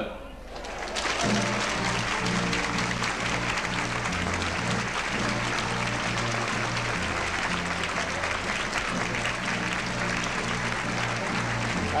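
A large 1975 crowd greets President Gerald Ford and Senator Bob Packwood with loud, continuous applause and cheering that swells up and holds for many seconds, while a band plays a steady tune and voices carry over the noise.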